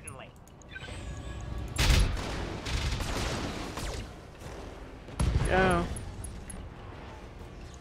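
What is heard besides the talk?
ammo explosion in BattleTech video game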